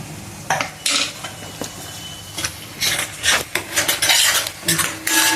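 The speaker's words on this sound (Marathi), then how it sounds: "आता 1 चमचा अद्रक लसणाची पेस्ट घालून घ्यायची. ती पण छान परतून घ्यायची तेलामध्ये." Ginger-garlic paste is stir-fried in oil for a spicy village-style prawn curry: a spoon repeatedly scrapes and clatters against the pan in short bursts over a faint sizzle, close by and without speech.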